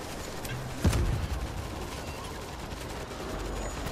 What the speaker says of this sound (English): that's why I'm shooting this mortar here